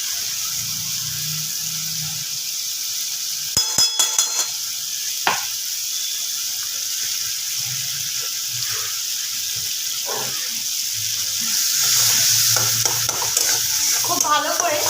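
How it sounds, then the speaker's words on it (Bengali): Spice paste fries in ghee with a steady sizzle and hiss, broken by a few sharp metallic clinks and scraping stirs, growing a bit louder near the end, with no talking. "খুব ভালো করে মশলাটাকে কষিয়ে নেব।"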